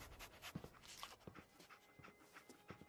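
A dog companion in the video game Fallout 4 pants in quick, soft bursts of breath, close but quiet, with no talk over it.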